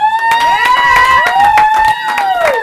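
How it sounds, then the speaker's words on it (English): An audience at a Black History Month event claps and cheers, with whoops and sustained shouted tones riding over rapid claps close by. "give yourselves a round of applause"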